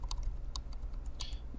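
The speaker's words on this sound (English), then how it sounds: "use the left and right brackets on your keyboard, and they'll increase and decrease the size like so" Several sharp key presses on a computer keyboard, the bracket keys tapped in a quick uneven sequence, close and fairly faint over a low steady hum.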